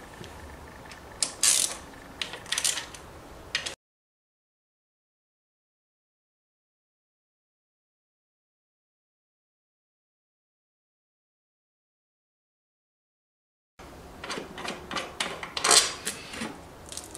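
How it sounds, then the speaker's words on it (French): The screws around an MBK Nitro scooter's kick cover are loosened with a ratcheting tool, giving close, quick clicking and creaking bursts before and after a long silent gap. "Vous devez donc desserrer les 11 vis qui font le tour de votre carter"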